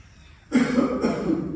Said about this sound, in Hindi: खांसने की आवाज आ रही